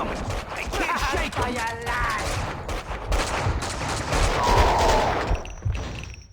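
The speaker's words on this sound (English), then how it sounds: "Someone must have heard the gunfire." Gunfire in the video game Max Payne 2: a dense, continuous fusillade of shots with crashing impacts and game music, loud and close throughout, with a faint voice mixed in.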